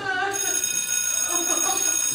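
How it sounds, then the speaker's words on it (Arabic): School bell ringing in a continuous loud electric ring with a steady buzzing tone, persisting without pause from start to finish. "رن الجرس"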